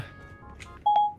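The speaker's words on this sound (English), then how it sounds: "Hey Siri, can you dial his people for me, please?" A phone voice assistant dials a number, giving a short run of clear DTMF keypad tones that end in a louder sustained beep, heard alone at close range.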